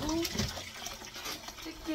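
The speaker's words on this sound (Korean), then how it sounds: "그래서 찬물을 부어가면서 칠게요." Cold water is poured over soaked dried chwinamul in a bowl, making a continuous close splashing pour under faint voices.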